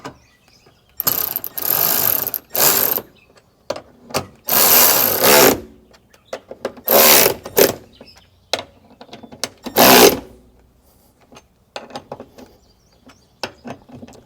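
Hardware on a Ford Bronco rack mount being tightened back down, with repeated close ratcheting bursts of varying length separated by brief pauses and small clicks.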